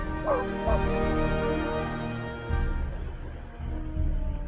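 A dog barks and yips a few times in short bursts, fairly close, with some whimpering tones mixed in and people talking around it.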